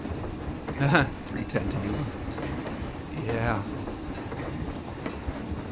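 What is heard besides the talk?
roller coaster train riding on track in video game Planet Coaster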